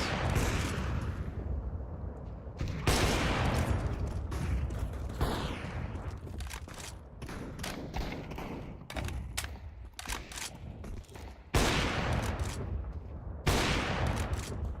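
Repeated gunfire and heavy thuds from a shooter video game, loud bursts of shots and impacts running continuously throughout with no talk.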